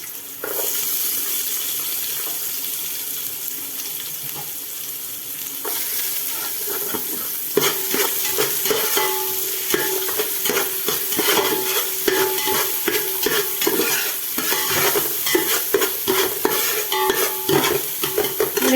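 Onions and cashews fry in a pan for coconut rice, stirred steadily: a continuous close sizzle with rapid scraping and clattering strokes that grow busier and louder partway through, with no talking.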